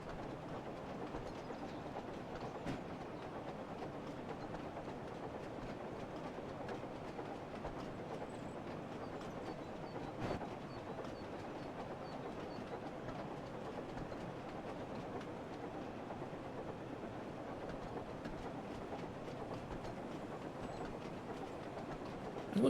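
A tank engine runs along the line in the Thomas & Friends: Wonders of Sodor video game, giving a steady, continuous rail rumble with soft rhythmic clatter from a cramped cab, unbroken throughout and with no talking.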